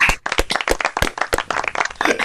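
Scattered hand clapping from a small group, uneven and close, with a brief pause near the start before the claps pick up again.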